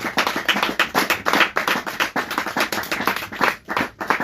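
A church congregation claps steadily and enthusiastically, many hands in quick dense bursts, close and loud, with no talking.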